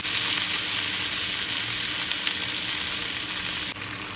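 Onion and quartered piccadilly cherry tomatoes cooking together in a pan, a loud steady sizzle and crackle close up that holds without a break for a few seconds.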